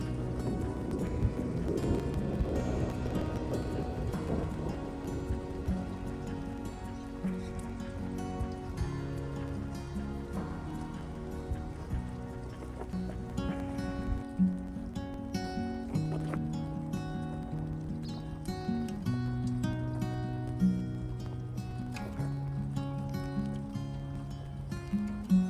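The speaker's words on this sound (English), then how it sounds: "it's really bucketing down now, so I've got to stop" Heavy rain pours down outdoors in a garden, a dense continuous hiss with scattered sharper drops and patters on nearby surfaces, steady throughout and without speech.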